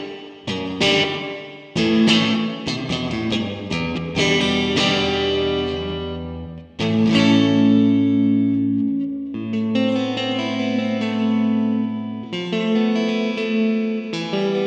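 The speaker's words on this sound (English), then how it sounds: "you can hear that the reverb increases quite a bit and the tonality of the clean guitar, it's like a little bit more pushed." Clean electric guitar through a Harley Benton JAMster on its third reverb level, strummed chords and picked notes ringing out with a noticeable wash of reverb, slightly pushed in tone, loud and close with no voices.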